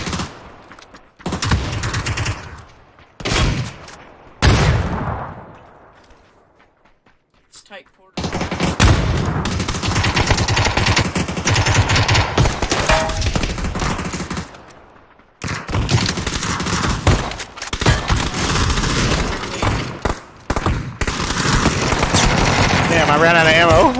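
Bursts of shotgun blasts and rapid automatic gunfire in the battle royale game PUBG: Battlegrounds, loud and near, firing in clustered volleys with brief silent gaps, while players talk over the shooting.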